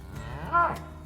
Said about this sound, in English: got the elusive beef cow